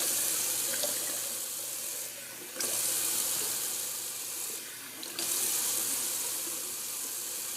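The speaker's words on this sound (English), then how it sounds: "I'm just going to do a quick little cold water rinse on the face." Cold tap water runs into a sink for a face rinse, a steady close splashing stream with two brief louder bursts as hands move through the flow, and no talking.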